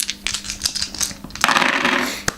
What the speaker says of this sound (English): So now I'll roll 5 dice for the survivors.